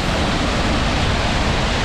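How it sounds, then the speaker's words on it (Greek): Floodwater rushing down the overflowing Baritis stream near Demati in winter, a loud, unbroken broadband roar with no voices. "Όλο αυτό το νερό, 700 εκατομμύρια κυβικά έχει υπολογιστεί ότι πάνε στη θάλασσα."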